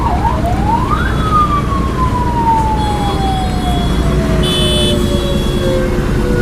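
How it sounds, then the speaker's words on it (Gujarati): An ambulance siren wails through busy Ahmedabad traffic, its rising and falling tone sweeping loudly over a steady roar of engines and road noise. "આ બાજુ એમ્બ્યુલન્સ છે"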